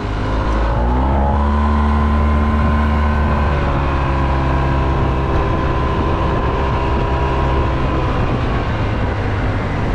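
Yamaha TMAX scooter engine heard from the rider's position, a loud continuous drone that rises in pitch as it accelerates, then holds steady under wind rush.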